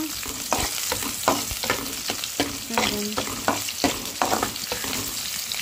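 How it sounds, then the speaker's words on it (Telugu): Onions fry in well-heated oil with a dense steady sizzle, punctuated by regular spoon scrapes and stirring knocks close by, without talk. "ఆనియన్స్ వేసుకోవాలా బాగా ఆయిల్ ఎక్కినాక"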